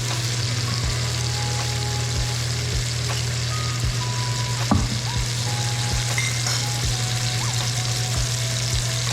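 Hot oil in a pan with a marbled beef steak and asparagus, a steady close sizzle with intermittent pops and a brief clatter midway.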